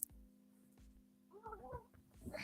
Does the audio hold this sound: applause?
no